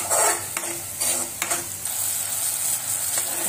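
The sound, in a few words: stirring masala with cashews frying in a pan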